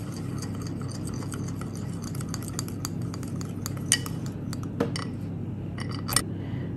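Hair styling cream being stirred with a utensil in a container, a soft continuous scraping under a low background hum, broken by a few sharp clinks of metal against the vessel.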